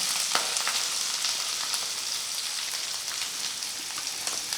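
Chopped onions with fennel seeds, curry leaves and two green chilies fry in a pan for fish puttu, giving a steady, close hiss of sizzling oil with fine crackles throughout.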